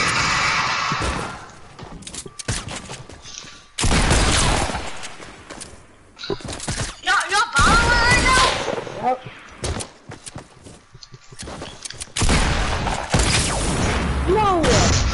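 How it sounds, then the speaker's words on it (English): Gunfire from the Fortnite video game comes in loud bursts and sharp cracks between stretches of quiet, with game sound effects and some talk mixed in. "He sniped me in the air."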